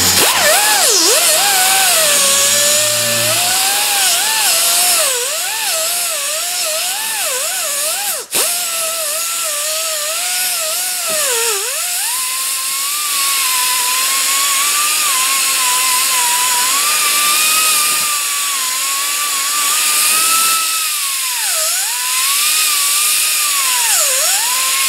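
Flap disc grinding at the wheel bearing hub of a 2005 Ford Explorer, a loud, steady high-pitched whine that wavers and dips as the disc is pressed and eased, with a sharp click near the middle.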